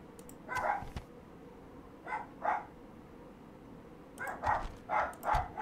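Several dogs bark in short, sharp bursts, some quick barks in pairs and a faster cluster near the end, moderately distant against a quiet background hum in a Third Age: Total War game session.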